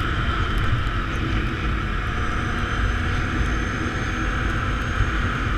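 A steady mechanical drone from a Can-Am Outlander 800 XTP ATV, a whirring drive-belt hum over a low engine rumble, continuous and close, with no talking.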